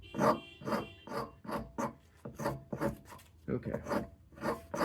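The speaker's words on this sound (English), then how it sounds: "that rasp is kind of biting into the wood" A sharp hand rasp files wood while shaping a wooden bow grip, rasping close up in about ten rhythmic back-and-forth strokes, with a brief spoken word partway through.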